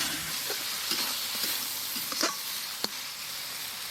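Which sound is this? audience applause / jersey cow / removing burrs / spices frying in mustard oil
spices frying in mustard oil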